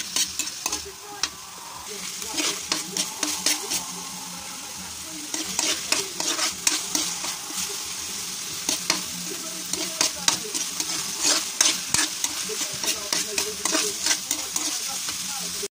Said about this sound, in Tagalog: Haluin natin guys hanggang sa maluto ng giniling.